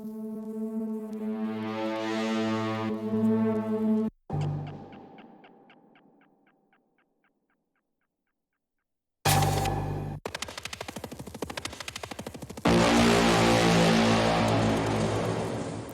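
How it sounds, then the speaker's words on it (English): Atmosphere loop from the Ammo sample pack in a neurofunk drum and bass production, shifting tonal textures: a sustained harmonic drone, a decaying tail into silence, then dense noisy bursts and a loud wash. "So this one is a atmosphere loop from Ammo sample pack."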